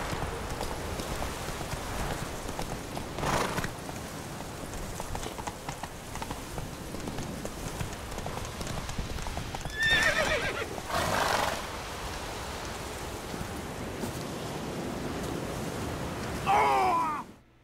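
Roach the horse trots along with steady clip-clop hoofbeats in The Witcher, rain pattering around, while several loud neighs and whinnies break out, the last one near the end.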